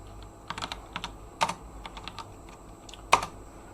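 Keys clatter on a computer keyboard during an Arch Linux install while it is switched to a French layout. The taps are irregular and close, with a few sharper, louder strikes standing out. No one speaks.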